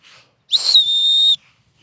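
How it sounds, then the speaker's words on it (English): A whistle built into an extendable survival tool, blown once outdoors by a reservoir on the Isle of Man, giving a loud, shrill, steady blast lasting under a second, close by and alone. "It's got a whistle on it, real survival tool."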